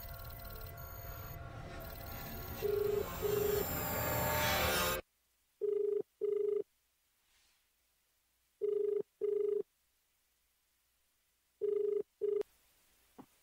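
A telephone rings back in a double-pulse pattern as a radio talk show dials a guest. The short paired tones repeat three times, clear and alone, after a loud burst of program sound at the start.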